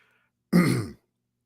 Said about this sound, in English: man, I got to clear my throat.